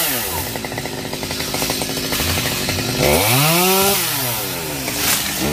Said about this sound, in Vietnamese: Cái lam này sao cưa gòn cho nó ngọt quá.